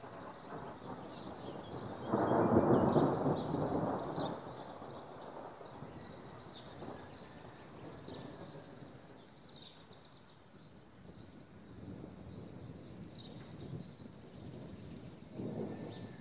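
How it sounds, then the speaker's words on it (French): Thunder from a severe electrical thunderstorm in Pernois, France, on a July evening, a heavy rolling rumble early on followed by quieter distant grumbles and another swell near the end, with steady outdoor ambience underneath. "je vous jure les gens que c'est un orage démentiel"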